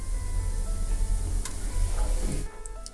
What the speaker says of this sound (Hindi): तेल में 1 चम्मच जीरा डाल देंगे, 1 तेज पत्ता डाल देंगे